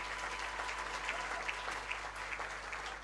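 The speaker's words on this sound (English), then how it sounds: "Shall we applaud them even if..." Steady audience applause at Unisa's 2023 Teaching and Learning Awards, a continuous dense patter of many hands in a large hall, even and sustained throughout with no break.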